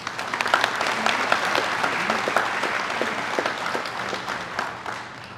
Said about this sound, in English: Please help me give them a warm round of applause.